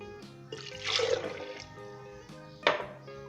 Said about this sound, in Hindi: दूसरे ग्राइंडर ले लें, इसके अंदर पानी डालें